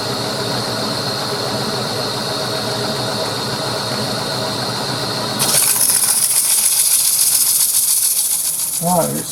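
A workpiece being sanded down to 320 grit, heard as a steady close mechanical whir with a constant hiss, which turns louder and brighter about halfway through before a short vocal sound near the end.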